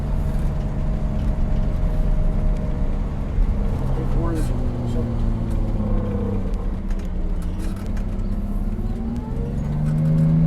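A 1962 GM 4106 bus engine drones low and steady as the coach takes a slow hairpin turn, with shifting engine tones and a constant rumble throughout.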